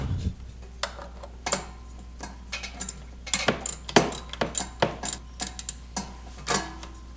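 Sharp, repeated ratcheting clicks from a Torx T30 wrench working loose bolts on a Ski-Doo 1200 4-TEC engine during an oil change, close up and irregular, growing denser midway through over a steady low hum.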